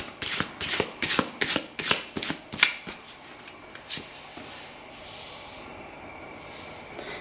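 Tarot cards being shuffled by hand, a quick series of about a dozen crisp riffling snaps, then a soft rubbing sound fading out, close and alone.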